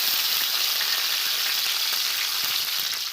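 Onions, tomatoes and green chillies frying in oil in a kadai with cinnamon and cloves, a loud, even, hissing sizzle that holds steady throughout, close up with no speech.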